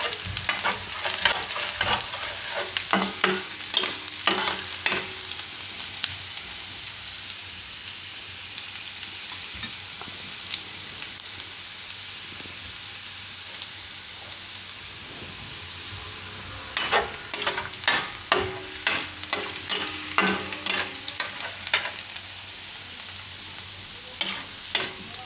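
Garlic fries in butter and oil in a deep pan and gets stirred, giving a steady close sizzle. Bursts of scraping stir strokes come early and again near the end, with no talking.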